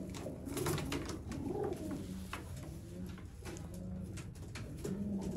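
Sialkoti pigeons cooing close by, several soft, throaty rolling coos that overlap and repeat in an uneven rhythm over a constant low background hum, with no talking.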